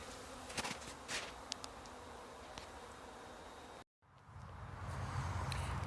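Honeybees swarm around their hive after breaking winter cluster, filling the air with a steady, dense buzz. Individual bees zip close to the microphone now and then, and a short dropout splits the clip before the hum resumes.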